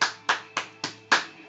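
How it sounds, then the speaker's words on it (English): Five sharp, evenly spaced hand claps, close and crisp, each ringing briefly before the next. "reason why I'm applauding you again"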